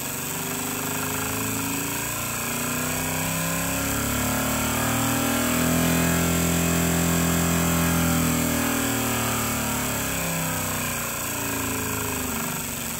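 A small engine runs steadily during an ignition coil test, with a continuous buzzing, harmonic-rich drone whose pitch rises and then falls again, loud and close throughout with no speech.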